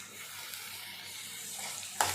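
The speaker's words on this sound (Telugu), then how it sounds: "ఇవన్నీ ఎర్రగా మగ్గేంత వరకు వేయించుకోవాలి" Onions and green chillies for keema fry in hot oil, giving a steady, close sizzle across the whole stretch with a sharper spatter or utensil clink near the end; nobody speaks.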